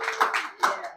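Audience applause for a volunteer at a coaching and hypnosis session: a brief, close burst of clapping hands, swelling twice within a second.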